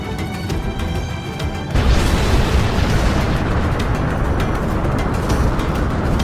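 A nuclear explosion in an anime erupts suddenly after a quieter opening, then a loud, broad roaring rumble holds steady for several seconds, with no voices present.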